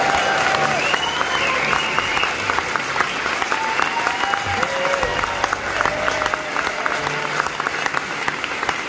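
Loud, sustained applause and cheering from a concert crowd at a small theatre as the band members are introduced, dense clapping filling the room with a faint voice under it.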